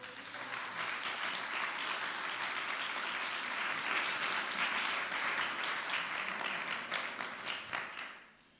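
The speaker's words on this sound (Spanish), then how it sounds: "Dale un aplauso, Señor, en esta mañana." A church congregation claps during a Spanish-language sermon, a steady swell of applause that holds for several seconds before trailing off into quiet.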